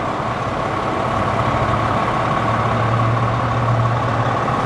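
A 1976 Lincoln Continental Mark IV Givenchy Edition idles with a steady low rumble and an even, unchanging hum, heard alone at close range.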